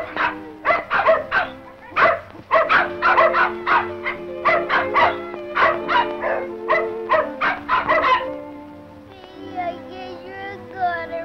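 A dog barks repeatedly in quick, loud bursts close by, then gives way to a whimpering, howl-like whine at the end.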